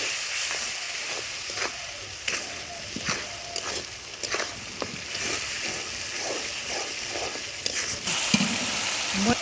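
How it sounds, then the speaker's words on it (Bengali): Biryani masala with ground roasted cumin, chili powder and salt frying and being stirred in a pan, a steady close sizzle with repeated scraping strokes and clinks throughout. "এখন এটাকে ভালো করে কিছুক্ষণ কষায় নিতে হবে।"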